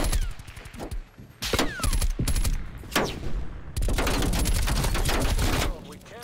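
Rapid bursts of video game gunfire crackle loudly in several clusters, with a longer sustained volley near the end, while a player talks over the shooting.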